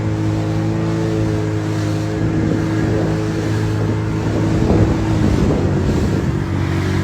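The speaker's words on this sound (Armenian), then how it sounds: "Առագացանավը նայեք։" A motorboat engine drones steadily and loudly on open water near Jermuk, with wind buffeting the microphone and a rougher surge of engine noise partway through.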